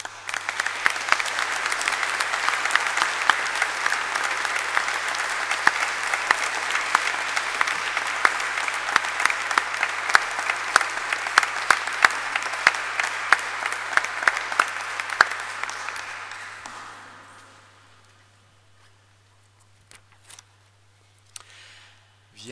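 Sustained congregation applause echoes through the Collégiale Saint-Ursmer church in Binche during a Sunday liturgy, with dense crisp clapping that continues for about fifteen seconds before fading into near silence with a few faint knocks.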